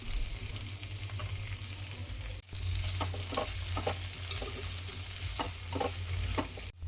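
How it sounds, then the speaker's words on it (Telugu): Okra (lady's finger) is stirred and fried in a pan, a constant sizzle layered with repeated scraping strokes of a spatula, close and steady, with one brief cut to near silence midway. "ఇప్పుడు ఇవన్నీ మిక్స్ అయ్యేటట్టు కలుపుకోవాలి."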